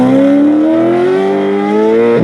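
A Ford Mustang GTD race car, roughly 350 horsepower, accelerates hard, its engine note climbing steadily in pitch as it shoots off, loud and close, with no talk over it.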